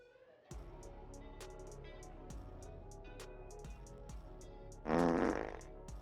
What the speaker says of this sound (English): Well, you just farted on yourself, didn't you?